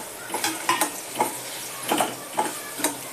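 Sandge, sun-dried lentil dumplings, go into a pan of hot oil and homemade masala and are stirred, giving several short scraping, clinking strokes over a soft sizzle.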